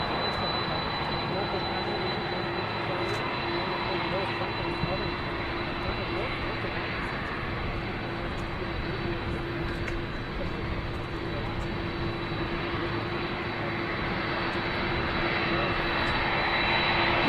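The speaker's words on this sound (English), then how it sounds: "Air Force One has just landed" Air Force One, a large jet, rolls in after landing at Palm Beach International Airport, its engines making a steady, loud roar with a constant whine, while a voice talks over it throughout.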